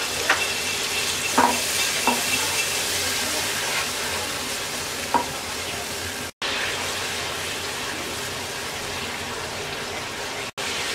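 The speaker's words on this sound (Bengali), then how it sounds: "এবার মশলাটাকে কিছুক্ষণ কষিয়ে নেব।" Spiced curd masala with ginger-garlic paste is stirred and fried in a pan for dahi bhindi, giving a steady close sizzle with occasional scrapes of the spoon and brief gaps.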